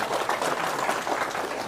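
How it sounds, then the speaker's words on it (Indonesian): An audience at an Indonesian political gathering claps in a dense, even burst of applause, fairly quiet and heard alone. "Tepuk tangan dulu."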